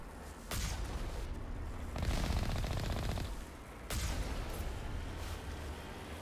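Turret gunfire in the Mass Effect Legendary Edition video game: sustained rapid bursts of shots and booming impacts, fairly distant and dense, with a louder rattling burst midway and no talk.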